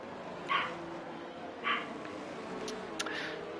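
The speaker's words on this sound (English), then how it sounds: "Apologies for the barking." A dog barks a few times in the distance, two yips spaced about a second apart, then fainter yelps over a steady background hum.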